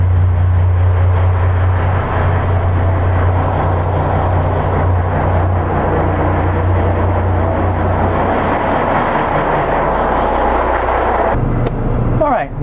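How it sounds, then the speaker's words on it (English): Yacht engines idle in the engine room, filling the space with a loud, steady low drone and broad mechanical roar, close and constant throughout, with a brief change near the end. "the engines are running"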